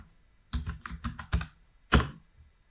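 Password typed on a computer keyboard: a quick run of several crisp, close key presses, a short pause, then one firmer final keystroke, quiet and with no talking.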